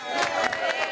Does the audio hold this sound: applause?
yes